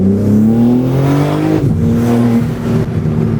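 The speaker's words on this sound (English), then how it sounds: "We are in M mode, so you know we're gonna get the burbles, but it's louder and the tone is better." A BMW G80 M3 with a modified exhaust in M mode revs loudly and steadily up close, its engine tone climbing, dipping briefly, then holding high with a rough burbling edge.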